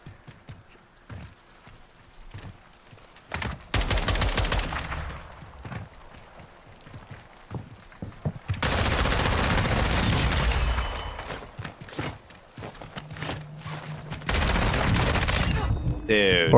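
Video game gunfire arrives in several loud, sustained bursts of rapid shots separated by quieter stretches with scattered single pops. Players talk intermittently between the volleys.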